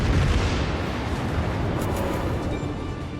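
Battleship main guns fire a broadside in a World of Warships naval battle, giving a dense, loud, continuous rumbling blast that rolls on for a few seconds.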